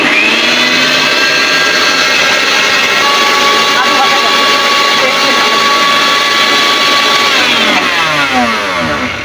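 A new mixer grinder whirs loudly and steadily at close range, its motor pitch holding constant and then dropping off near the end as it winds down.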